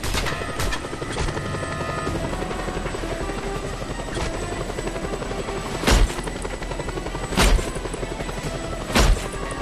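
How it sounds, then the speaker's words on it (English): Helicopter in the video game Just Cause 2: a steady, loud rotor drone fills the whole stretch, broken by three heavy booming thuds near the end, like explosions or gunfire. "That helicopter will tear us to pieces!"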